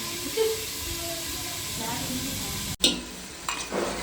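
Chillies, tomato and curry leaves hitting hot tempering oil for potato faral, a soft continuous sizzle and hiss with a sharp clatter near the end, close by, under light background talk.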